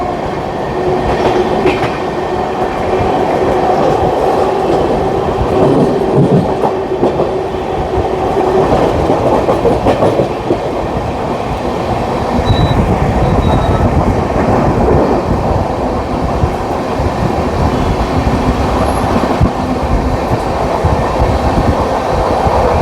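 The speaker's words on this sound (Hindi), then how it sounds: "फिरोजाबाद में हमारी एक और क्रॉसिंग होने वाली है और वो है 12566 दरभंगा की शान बिहार संपर्क क्रांति एक्सप्रेस" The 12566 Bihar Sampark Kranti Express crossing at Firozabad, a loud, close, continuous rail rumble with rhythmic clickety-clack of wheels that runs unbroken for over twenty seconds.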